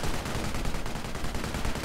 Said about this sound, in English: dual machine guns doing a bit of damage to them